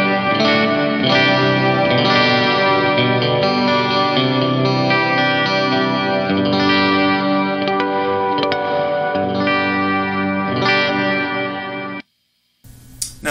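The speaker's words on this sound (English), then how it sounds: "we'll turn up the mix a little more, and we'll get some really nice kind of ambient sounding reverb out of it." An electric guitar plays chords through a Walrus Audio Fathom reverb pedal set with higher decay and mix, producing a lush, washed-out ambient tail that swells and sustains before cutting abruptly to silence near the end.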